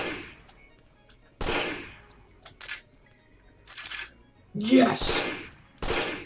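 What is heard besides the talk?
gunshots from the video game Amazing Frog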